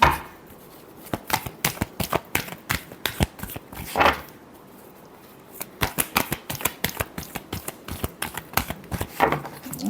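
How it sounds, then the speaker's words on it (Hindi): A deck of tarot cards shuffled by hand in quick bursts of crisp riffling snaps, close and fairly loud, with short pauses between runs and no talking. "last shuffle"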